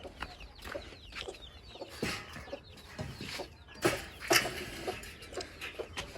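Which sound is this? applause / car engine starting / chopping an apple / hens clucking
hens clucking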